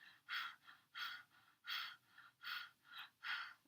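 Rhythmic panting breaths with the tongue out during a Kundalini yoga breathing exercise: six quick, breathy pulses in steady succession, close and clear, with no talking.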